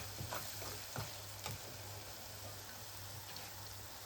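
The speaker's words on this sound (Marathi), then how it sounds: "याला सुद्धा आपण दोन मिनिटासाठी मोठ्या गॅसवर भाजून घेऊ" Onions roast in a pan over a high gas flame for dhaba-style whole masoor dal. A continuous, fairly faint sizzle and crackle runs throughout, with a few stirring scrapes early on.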